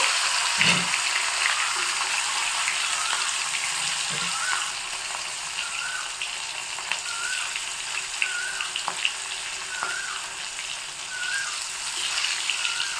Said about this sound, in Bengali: তেলটা আমি ভালো মতো গরম করে নিয়েছি এবার মাছগুলো দিয়ে দিব